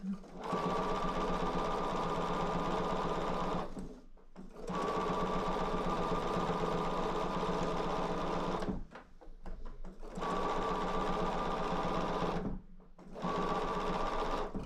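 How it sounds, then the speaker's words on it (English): A sewing machine whirs steadily in long runs, stopping briefly three times before starting up again, close and loud with no talking. "You can hear my sewing machine running."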